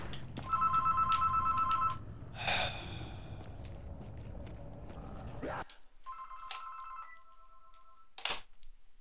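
An in-game telephone rings in Black Ops 3 Zombies on the Revelations map, sounding two bursts of ringing separated by a quieter stretch, with scattered game noises and faint background murmur.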